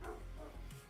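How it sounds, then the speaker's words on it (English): A neighbor's dog barks in the distance, faint and muffled, a couple of short woofs under a steady indoor room hum. "I hear the doggos. That's actually not my dog."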